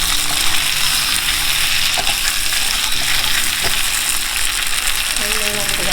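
Chopped onion frying in oil in a pan for beef chow fun, a steady loud sizzle with occasional stirring scrapes running throughout.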